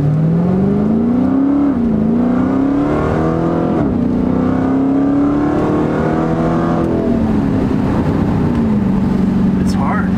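A Dodge Hellcat accelerates hard, its engine note climbing loud and close in repeated pulls through the gears with pitch rising and dropping at each shift, while people talk over it.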